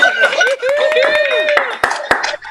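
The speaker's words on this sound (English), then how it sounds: "Whoever wants to unmute and applaud, please do." Scattered applause and cheering from a few people over a video call after a live book-club performance, sharp claps popping irregularly while voices whoop and chatter over one another.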